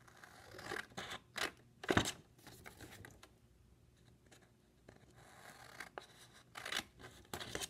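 Scissors snip paper at a treat-basket craft, cutting diagonally across each corner: a few sharp, close crunching cuts spaced apart, with soft paper rustling and handling between them, no talking.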